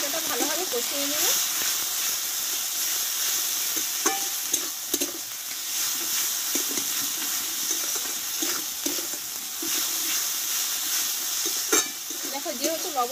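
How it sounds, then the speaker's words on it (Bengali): Masala with salt and turmeric frying and being stirred in a pan for a drumstick and egg curry, a steady soft sizzle with scraping stir strokes throughout, no talk. "এবার একসঙ্গে মশলাটা ভালোভাবে কষিয়ে নেব।"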